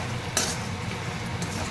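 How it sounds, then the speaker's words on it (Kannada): Fried gobi (cauliflower) being stirred into Manchurian gravy in a pan, with a soft continuous sizzle, a single louder scrape of the spoon near the start and another faint one later; no talking. "ನೋಡಿ ನಾನು ಕಲಿಸ್ತಾ ಇದ್ದೀನಿ ನೀಟಾಗಿ"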